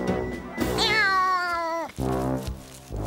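A cartoon cat gives one long, loud, close meow with a gliding pitch, heard alone in a children's animated show set beside a tree where treasure is buried.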